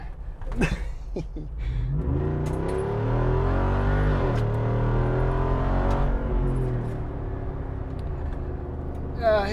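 A 2022 Jeep Wrangler Rubicon 392 with its 470 lb-ft engine and 8-speed automatic accelerates hard, the deep V8 roar rising and holding loud and close for several seconds after a few brief sharp sounds at the start.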